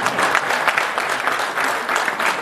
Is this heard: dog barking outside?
no